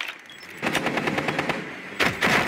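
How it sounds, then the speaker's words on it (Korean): Rapid bursts of automatic gunfire in a video game rattle in quick succession, loud and sharp, with a brief pause before another burst. "총소리가"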